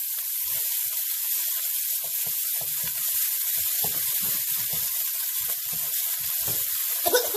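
Spicy snails sauté in oil with a bright, continuous hiss and sizzle, layered with low bubbling pops, up close and steady, with a slight clatter at the end and no speech.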